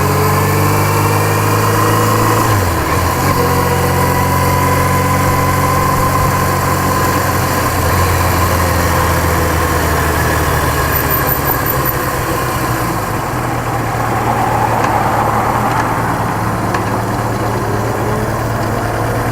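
A 1982 Suzuki GS650G motorcycle engine idles nearby with a loud, steady drone and a fluttering exhaust, its tone wavering slightly over about twenty seconds with no voices.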